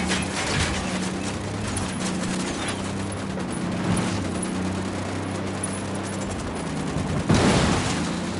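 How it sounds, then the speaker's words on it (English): Dense, sustained automatic gunfire crackles through a Ghost Recon Wildlands firefight, with rapid overlapping bursts over a steady low engine drone and a louder burst near the end. "Opening fire."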